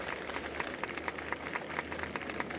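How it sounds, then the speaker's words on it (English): Steady applause from a large crowd in the video game Honkai: Star Rail, dense clapping with a few louder claps standing out, continuous throughout. "we invite you to express your warmest applause and deepest appreciation for OT Alfalfa."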